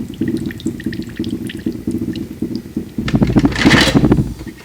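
Liquid trickles and drips from pressed herbs while making a herbal tincture, a steady close watery patter that swells into a louder splashing pour near the end.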